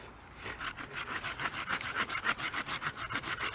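Hand saw cutting through a fused woody root knuckle of a small tree, quick regular back-and-forth strokes, close and fairly loud, about a dozen rasping passes with no voices.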